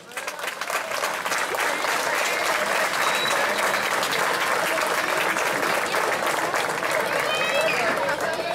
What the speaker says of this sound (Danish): så får de selvfølgelig også et kollektivt bifald